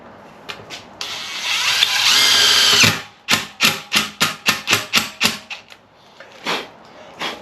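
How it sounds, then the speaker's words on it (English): A power drill drives a short self-tapping screw while a compressor is mounted on a Jeep: one long continuous whine, then about nine quick, evenly spaced bursts as the screw bites and seats, close and loud. "And I'm just going to use this self-tapper."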